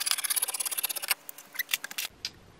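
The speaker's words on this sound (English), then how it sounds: "I'm going to cut a yard of fabric." Scissors cut through fabric in quick rhythmic snips, a rapid run of crisp close chops followed by a few slower, separated cuts, loud and without talk.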